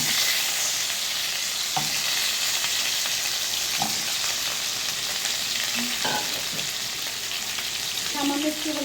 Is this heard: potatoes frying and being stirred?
yes